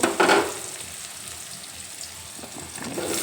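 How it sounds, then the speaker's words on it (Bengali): Potatoes drop into onions already frying in a pan with a brief loud clatter and hiss, then a steady, moderate sizzle carries on with faint stirring scrapes. "দেখো আলু দিয়ে দিলাম এই পেঁয়াজ আর আলু একসঙ্গে কিছুক্ষণ ভেজে নেবো"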